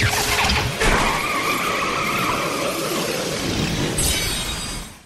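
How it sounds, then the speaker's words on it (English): In Final Fantasy XIII, the Shiva sisters turning into a motorcycle bring a loud, sustained tire squeal and skidding screech with engine rumble that swells near the end, then cuts off abruptly. "the Shiva sisters submit to your awesome demonstration of power and turn into a motorcycle"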